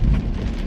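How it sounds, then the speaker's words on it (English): Heavy rain pours down at night in Indianapolis, a dense steady roar of rainfall close by with a low rumble beneath it. "it is pouring down rain in Indianapolis tonight"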